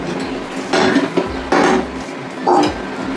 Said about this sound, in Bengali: দুধটা এবার আমি নামিয়ে রাখবো।